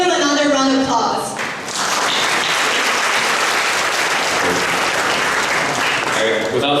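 Loud, dense audience applause fills the hall after a speaker's harmonic voice at the opening, sustained and continuous at an entrepreneurship competition event.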